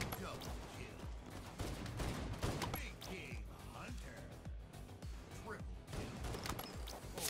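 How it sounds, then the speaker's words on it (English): Rapid pistol gunfire from a killing spree in the Halo 5 video game, dense bursts of shots and impacts crackling continuously over a busy game soundtrack, with a voice talking throughout. "we see Nerd scouting out the enemies with her pistol"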